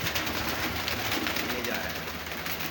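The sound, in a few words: pigeon caught by the boat captain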